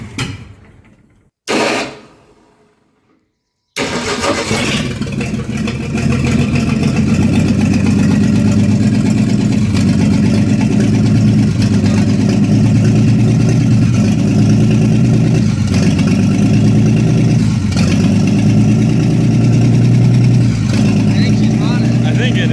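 A 1962 Ford F100 pickup that has sat unused for years is cranked for its first start. The engine suddenly catches and settles into a loud, steady, rumbling idle close by, with people talking over it.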